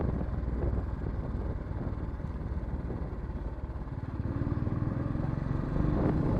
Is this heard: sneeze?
no